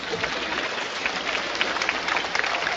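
Sustained applause from a crowd at a high school graduation ceremony, a dense and steady wash of many hands clapping together at an even level throughout.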